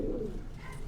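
Male pigeons cooing in a pigeon loft, a brief low throaty coo up close that fades out, with a faint background hum.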